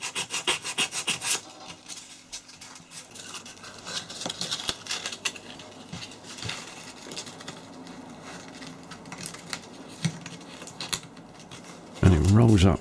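Sandpaper of 120 grit rubs rhythmically over a cast metal knife handle, a close, steady rasping scrape in repeated strokes, with a louder burst of handling noise near the end.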